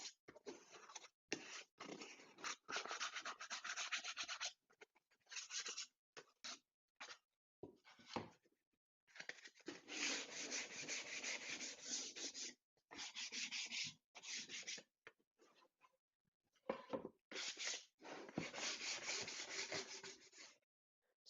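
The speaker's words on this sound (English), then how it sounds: "I'll now just take a piece of sandpaper, clean up the edges of the holes, the edges of the saw cuts from the bandsaw" Sandpaper rubbed by hand over the sawn edges and holes of bandsawn plywood pieces, in short raspy strokes that come in bursts separated by brief pauses, close and fairly quiet.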